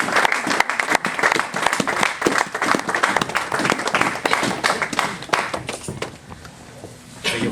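A church congregation applauds a pastor with loud, sustained clapping. The sharp claps are densely packed for several seconds and thin out toward the end.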